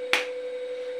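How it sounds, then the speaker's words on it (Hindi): A single sharp finger snap, close and fairly faint, rings out once over a steady electronic tone from a clap-activated LED circuit. "मुझे ठीक से चुटकी बजा नहीं आता"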